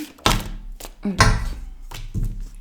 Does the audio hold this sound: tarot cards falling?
yes